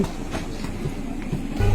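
A moving train from Dhaihat station rumbles steadily with rhythmic clickety-clack of the wheels on rails, heard from inside the carriage at moderate volume, with a low thud near the end.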